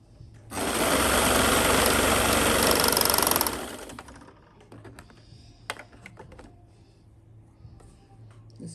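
A sewing machine runs in one steady, loud burst of stitching through a mattress cover on a balcony, then stops, leaving faint clicks and handling noises.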